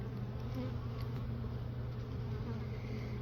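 A steady, dense hum of honey bees swarming around an open hive during a late September frame inspection, close and continuous with no talk.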